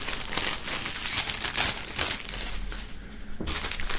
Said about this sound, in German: werden wir die hier mal aus der Folie befreien